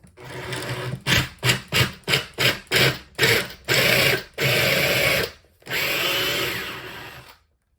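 Power drill widening a hole in a wooden shelf for a bracket, running in about eight short, rhythmic bursts, then two longer sustained passes, loud and close with no talking.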